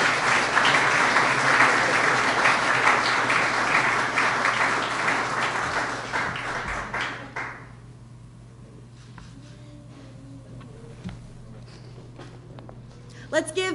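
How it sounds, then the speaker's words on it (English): Audience applause for state winners of a Capitol building Minecraft design contest, a dense steady clapping wash that fades out around the middle, leaving a quiet room with faint stray sounds and a brief clatter at the end. "Let's give everybody another round of applause for their great work."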